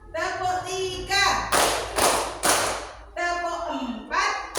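Several people clap in unison during the rhythmic 'tepuk 5' hand-clapping game. Three or four strong bursts of claps fall between lines of chanted counting. The clapping is close and loud in an indoor group setting.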